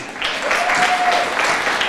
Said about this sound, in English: Give Moses a hand clap.